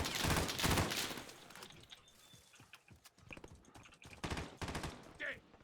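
Gunfire from a weapon in the video game Warzone, with loud bursts of rapid shots at the start and again near the end, and quieter game sounds in between.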